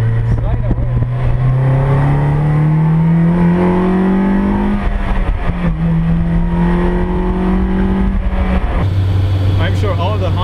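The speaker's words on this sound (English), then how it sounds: "Oh, this thing just wants to drift away. Slide away." S2000-engined AE86 Corolla driving hard and drifting, its high-revving engine climbing through gears in long rising pulls, loud and close throughout, with a voice talking over it.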